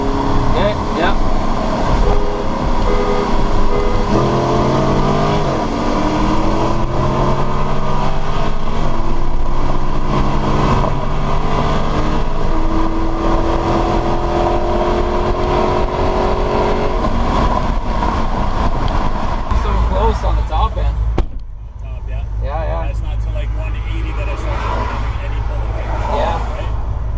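Dodge Challenger R/T cars, one cammed and others stock 392, accelerating together in a roll race, a loud sustained engine roar with rising revs and gear changes, then a sudden drop to a quieter cabin drone near the end.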